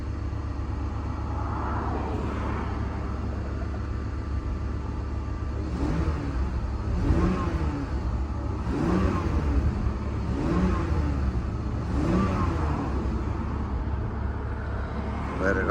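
BMW E46 engine idling with lean codes P0171 and P0174 and misfire codes: a steady, low, close rumble with rhythmic swells every second or so in the later half.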